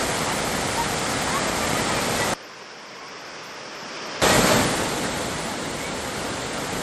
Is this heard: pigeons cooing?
no